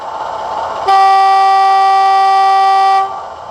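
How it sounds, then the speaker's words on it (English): Horn of a Heljan Class 25 model diesel locomotive sound function, a single loud sustained tone lasting about two seconds that cuts off abruptly against a quiet background hum. "Function 10 is a horn."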